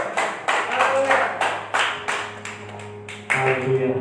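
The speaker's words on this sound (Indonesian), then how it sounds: "Tepuk tangan yang mulia." Church congregation at a live Sunday worship service in Jakarta claps in spaced, rhythmic bursts, with sustained tones from instruments or an organ ringing underneath and a louder surge near the end.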